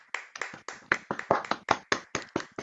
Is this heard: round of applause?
yes